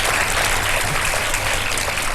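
A studio audience at an iftar television show applauds, a dense, steady burst of clapping that fills the whole moment at even loudness without talk.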